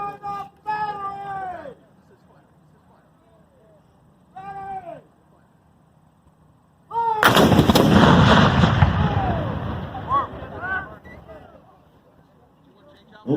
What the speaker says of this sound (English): The battle will begin with an artillery barrage.